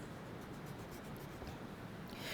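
Pencil drawing lines on paper for a drafting demonstration, a faint, continuous close scratchy rubbing for a couple of seconds.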